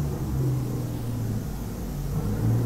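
Truck engine in American Truck Simulator, a steady low idling rumble with a faint hum, continuous and close, no talking.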